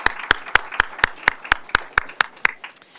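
A single person claps in a steady rhythm, about a dozen close, loud, evenly spaced claps, with fainter audience applause behind them, all for students at a summit.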